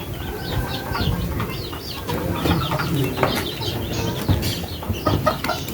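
Young chicks peeping repeatedly in a small group, quick high chirps overlapping in a busy continuous chorus with occasional louder cheeps and soft shuffling below.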